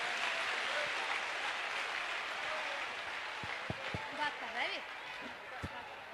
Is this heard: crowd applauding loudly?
yes